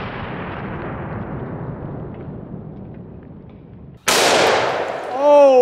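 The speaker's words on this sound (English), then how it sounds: "I haven't shot shaving cream in a while. Try that out. 357 Magnum on the left." Gunfire from a .357 Magnum revolver aimed at shaving cream: a booming report that decays over several seconds, then a second sharp, loud blast, followed by a voice close to the microphone.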